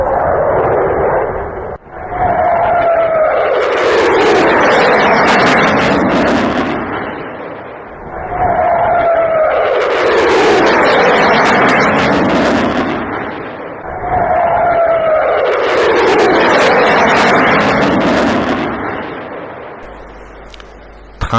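A Fouga Magister jet racing low at about 300 feet and 600 km/h: a loud, roaring rush that swells and fades three times in a row, each pass carrying a thin whistling tone, with no voices.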